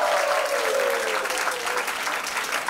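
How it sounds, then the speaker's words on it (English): Crowd at a Garba event gives a big round of applause for a senior consultant anesthesiologist, steady clapping from many people filling the hall, with a faint voice trailing beneath at the start. "Big hand of applause,"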